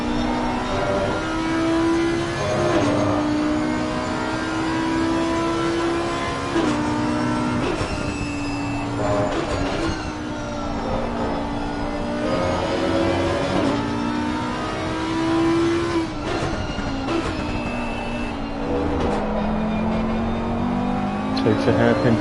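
A race car drives a lap of the Imola circuit in a sprint race, its engine droning loudly and continuously as it rises and falls through gear changes, with a commentator speaking over it.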